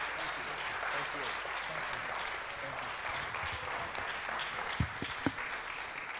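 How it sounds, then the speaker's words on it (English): A community forum audience applauds Councilman Brown with steady, dense clapping that fills the room, and a few sharper claps stand out near the end while voices murmur underneath. "Can we give a round of applause to Councilman Brown,"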